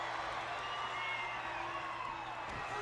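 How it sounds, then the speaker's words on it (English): Crowd at a 1991 WCW Starrcade wrestling arena cheering and roaring, a steady wash of distant crowd noise with a commentator's voice over it. "This crowd is going crazy"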